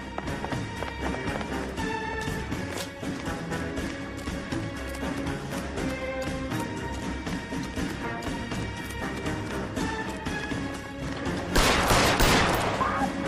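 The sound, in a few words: gunfire in video game L.A. Noire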